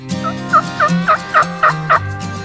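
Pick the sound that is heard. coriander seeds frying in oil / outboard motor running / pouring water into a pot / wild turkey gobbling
wild turkey gobbling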